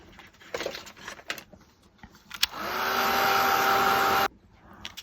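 A dryer blows over a freshly painted piece in one steady, loud burst of about a second and a half, with faint handling noises before and after.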